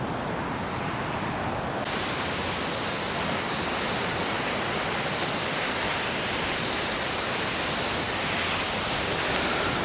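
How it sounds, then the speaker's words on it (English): Porth Cadjack Cove waterfall in Cornwall pours off the cliff into the cove, a loud, constant rushing roar that swells after a brief quieter opening and holds steady close by. "Porth Cadjack Cove Waterfall."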